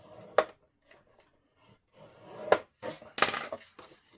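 Paper being scored for a scrapbook album on a scoring board, a few short dry scraping strokes with quiet pauses between, close and fairly soft, no talking.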